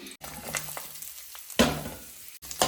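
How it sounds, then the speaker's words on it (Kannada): Onion, green chili and curry leaves frying in a pan for chicken sukka, with close scraping stirs and bursts of crackling sizzle between quieter moments. "ಈರುಳ್ಳಿ ಹಸಿರು ಮೆಣಸಿನ್ಕಾಯಿ ಮತ್ತು ಕರ್ಬೇವಿನ ಸೊಪ್ಪು ತೆಗೆದಿಟ್ಕೊಂಡಿದ್ದೀನಿ ಅದು ಹಾಕ್ತಾ ಇದ್ದೀನಿ"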